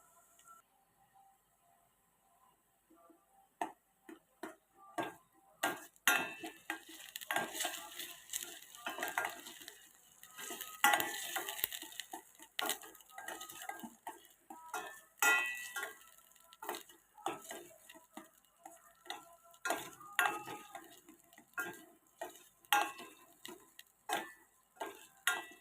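Curry leaves with ginger-garlic paste added to hot oil on medium flame and stirred for vegetable rice, a crackling sizzle of rapid irregular pops and spoon taps building after a quiet start, close and without speech.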